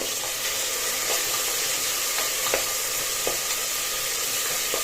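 Chopped tomato goes into onions, coriander and mint frying in a pan for white mutton pulao, giving a steady close sizzle with a few faint stirring clicks and no voices.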